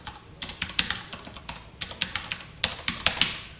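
Code being typed on a computer keyboard: quick, close, irregular key clicks in short bursts with brief pauses, alone in a quiet room.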